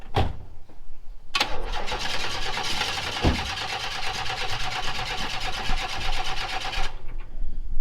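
A car engine cranks and catches, then settles into a loud, steady idle close by for several seconds before cutting off, with no talking.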